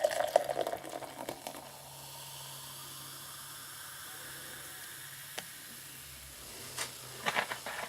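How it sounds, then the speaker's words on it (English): A soft, steady fizzing pour of cider into a glass, a quiet continuous hiss with a few small clinks and bursts near the start and end. "Let's pour some into the glass."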